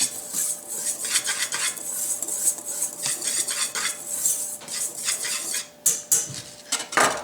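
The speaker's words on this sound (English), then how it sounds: "So I'm going to whisk that all together." Dry ingredients for peanut butter cookies, including salt, are whisked in a bowl, giving a rapid, rhythmic metallic clatter and scraping that rises and falls, close and fairly loud, with no talking.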